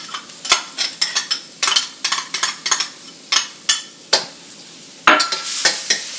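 Garlic and ginger stir-fry in canola oil in a hot wok, with a metal utensil scraping and clacking in quick irregular strokes over a soft sizzle, close up and free of speech.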